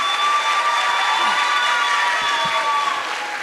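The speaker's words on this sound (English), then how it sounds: "if we can all give a huge round of applause to Longwood's alumni" A crowd at a Longwood High School 12th-grade graduation applauds an alumnus, a steady wash of clapping and cheering that stays loud and even throughout.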